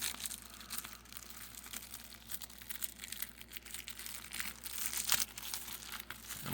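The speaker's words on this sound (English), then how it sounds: "I'm going to go ahead and do a little bit of an unwrapping here." Crinkling and tearing of plastic shrink wrap being peeled off a movie case, near and fairly steady for several seconds with sharper crunchy bursts, no talking.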